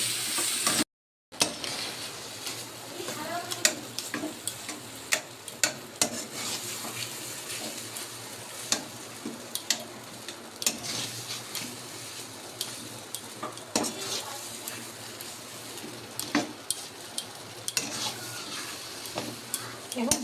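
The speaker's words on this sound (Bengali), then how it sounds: "আর সব শেষে দেবো একটুখানি মোচা দিয়ে ভালো করে আমি এটাকে নেড়ে শুকনো করে নেব।" Chopped banana flower is stirred and dried out in a sizzling frying pan for dhokar dalna, with a continuous soft fry and repeated scraping and clinking of a spatula against the pan.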